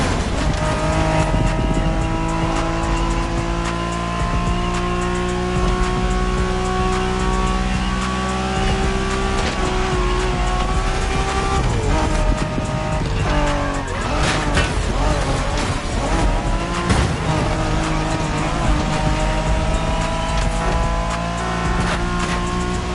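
Honda NSX racing in The Crew Motorsport, a loud continuous engine drone with shifting revs and tire squeal, game music and effects mixed in throughout.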